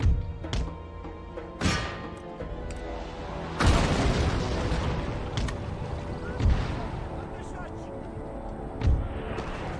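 Cannons fire on a battlefield in Empire: Total War, several deep booming blasts spaced every couple of seconds over a continuous rumbling din of battle.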